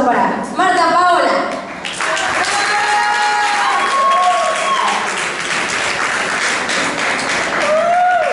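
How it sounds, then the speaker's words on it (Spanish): An audience at an academy awards event in Veracruz applauds loudly for an eleven-year-old performer, close dense clapping mixed with cheers and raised voices that continues throughout. "Fuerte el aplauso para Marta Paola."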